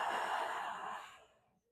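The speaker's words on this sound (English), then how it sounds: "nice deep breathing." A long, deep breath, close and fairly loud, fades out over about a second and a half during a dead bug core exercise, with no talk.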